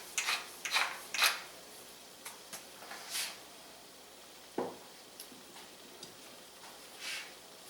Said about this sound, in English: Just need a few twists of pepper.